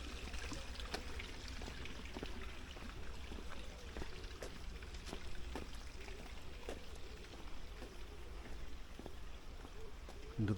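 A small stream flows through Peasholm Glen in Scarborough, a quiet continuous trickle with faint clicks and splashes in a wooded park setting.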